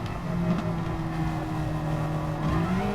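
A sim racing car engine drones steadily, with its pitch shifting as it drops down through the gears and then pulls under acceleration.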